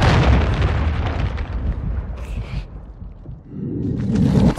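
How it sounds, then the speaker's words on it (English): Cruise missile strike in Modern Warfare 3, a loud rumbling explosion that decays, then a second swell of booming blast noise toward the end. "Friendly cruise missile deployed."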